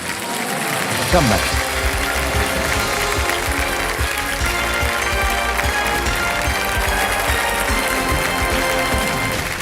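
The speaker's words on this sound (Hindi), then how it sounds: "तालियां बज जाए इनके लिए।" Studio audience applause on a televised quiz show, a dense, continuous roar of clapping lasting several seconds, with music and a host's voice mixed in underneath.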